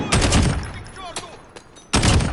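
Bursts of automatic gunfire crackle in Call of Duty: Modern Warfare, a loud volley at the start, scattered shots and a brief shout in the middle, then another heavy burst near the end.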